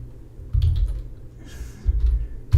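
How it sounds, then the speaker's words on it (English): Loud computer keyboard typing comes in a few dull, heavy bursts of keystrokes separated by short pauses, close to the microphone and with no talking. "I know my typing is loud, but you guys force me to keep it up here so you guys can hear it"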